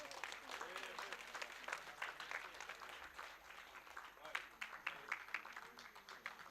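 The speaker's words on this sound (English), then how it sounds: "I request everyone to give a huge round of applause to all our winners and our participants" Audience applause at a national human rights debate ceremony at Doon University honouring winners and participants, a steady dense patter of many hands clapping throughout, with a voice speaking over it.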